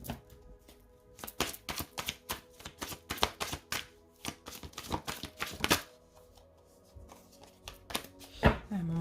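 Tarot cards are shuffled and laid out on a table, making a close series of crisp riffling slaps and flicks in uneven bursts, with soft pauses between.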